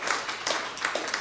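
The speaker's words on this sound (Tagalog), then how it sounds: "isa muna pong malakas na palakpak po sa Panginoon" Church congregation clapping together in a loud round of applause, a dense, steady patter of many hands carrying on throughout without a break.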